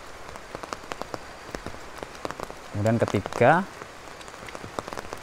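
Rain falls steadily outdoors while someone walks in it, a soft continuous patter of drops with a brief burst of speech partway through.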